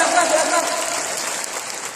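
A large seminar audience at the MOA Arena claps in a dense, sustained wash of applause, loud and enveloping, with voices calling out over it.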